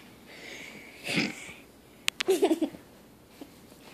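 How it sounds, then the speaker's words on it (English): A sleeping person gives a couple of short, close snorting snores, one soft and one rougher and louder, with quiet breathing between them. "He snored."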